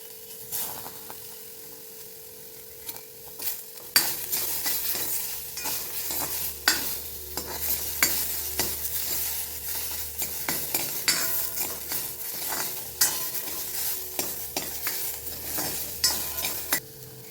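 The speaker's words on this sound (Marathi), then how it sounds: "कांदा आपल्याला पर परतलेला आहे कांदा त्याच्यामध्ये टोमॅटो टाकते" Onion and tomato sizzle and fry in a pan, with a steady crackle that grows louder partway through and frequent scraping stirs of a spoon against the pan.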